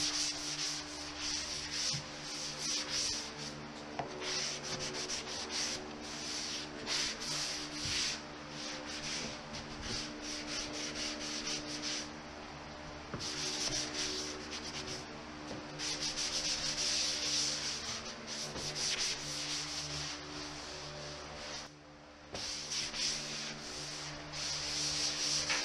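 A sanding pad scrapes steadily across a drywall skim coat, a close, continuous abrasive rasp in repeated strokes with brief pauses between passes.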